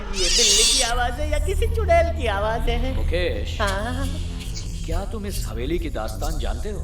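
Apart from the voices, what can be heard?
cat meowing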